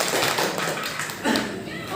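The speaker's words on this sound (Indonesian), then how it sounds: "Tepuk tangan dulu dong buat Saputra." Brief, dense patter of schoolchildren clapping for a classmate in an elementary classroom, the fast taps blending into a rough burst that swells again near the end, with voices mixed in.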